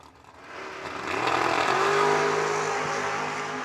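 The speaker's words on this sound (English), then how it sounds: "Another great drag race." Drag racing cars launching at a race meet, one a wheel-standing Camaro, engines swelling into a loud sustained roar that rises in pitch and holds steady at a distance.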